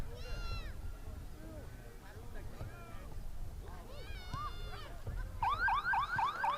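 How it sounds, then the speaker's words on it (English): The end-of-game signal at a girls' varsity high school soccer match bursts in near the end as a loud, warbling, alarm-like tone. Before it comes a steady outdoor crowd murmur with chirping calls. "And there's the buzzer."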